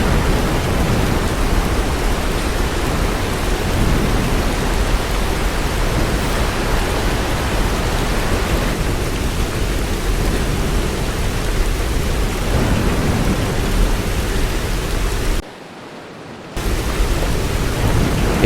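Heavy, steady rain pours during a tropical storm, Typhoon Trami, over Sanya in Hainan Province, China, a dense unbroken roar that continues with no distinct thunderclaps and cuts out briefly near the end.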